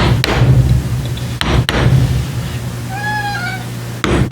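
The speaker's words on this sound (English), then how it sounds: "That's my cat, by the way." A domestic cat gives a single rising meow at moderate distance in a workshop where bronze is being cast, set against a steady low hum and a few sharp thuds.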